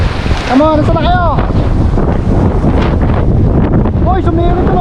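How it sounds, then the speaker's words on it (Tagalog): Strong monsoon wind at sea buffets the microphone in a loud, constant roar with wave noise beneath, while people shout and talk over it. "Ay, lakas ang hangin!"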